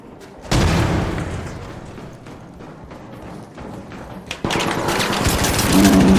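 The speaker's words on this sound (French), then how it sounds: "J'ai lancé une grenade" A grenade blast in a player-versus-player shooter game: a loud burst hits early, then a dull rumbling stretch, then a second heavy blast swells into sustained rattling gunfire.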